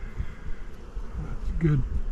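Honeybees hum around an open, thriving hive during an inspection, a steady low buzzing close by with individual bees droning past, while a person speaks over it.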